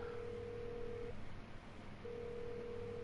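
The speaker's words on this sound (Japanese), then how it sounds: "電話来てる。" A telephone rings in the horror video game Resident Evil 7: a steady electronic tone in two long bursts separated by a pause of about a second, over a low background hum, with no talking.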